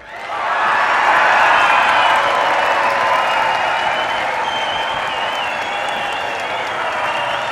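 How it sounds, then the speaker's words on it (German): A science slam audience roars and claps at length, a dense, loud wash of applause and cheering that swells quickly and holds steady throughout, with no talk over it. "Deswegen bitte ich Sie jetzt um ein lautes Brüllheulen mit Klatschen und Trampeln."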